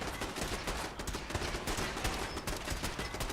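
Gunfire from default weapons in a video game fight, a fast continuous barrage of crackling shots, fairly quiet but unbroken from start to finish.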